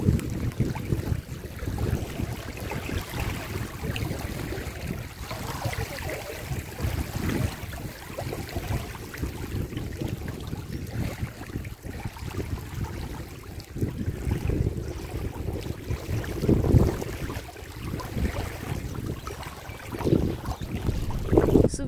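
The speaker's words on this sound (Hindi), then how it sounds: "यहाँ पे पानी का आवाज थोड़ा सुनिए" Water flows at a lakeside picnic spot, a steady broadband rush that runs continuously and close, mixed with wind buffeting the microphone, with no voices over it.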